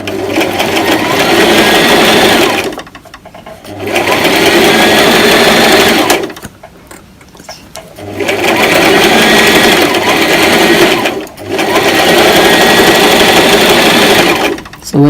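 A sewing machine stitching T-shirt fabric runs in loud, steady whirring bursts of a few seconds each, separated by short pauses, close up.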